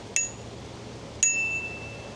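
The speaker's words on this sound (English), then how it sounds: "I'm gonna have to ring the bell" A small bell rings twice, each a single bright ding about a second apart that decays quickly, faint over a low steady hum.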